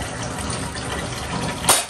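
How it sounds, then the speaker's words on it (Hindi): Water pours into a potted plant at home, a short close splashing flow that swells near the end and then stops. "इसमें डाल देते हैं पानी।"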